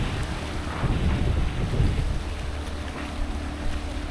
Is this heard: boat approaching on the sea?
yes